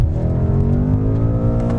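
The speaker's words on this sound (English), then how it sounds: "I'm just going to hold it on the brake. We're at about 1500 RPM, full throttle." A BMW M5 F90 engine held on the brake at about 1500 rpm under full throttle before a standing start, giving a loud, steady, close-up droning rumble that holds constant throughout.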